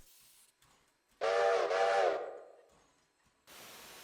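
Engine Number 5, a steam locomotive in the game Railroader, sounds one loud, clear whistle in two quick pulses that tapers off, framed by bursts of hissing steam.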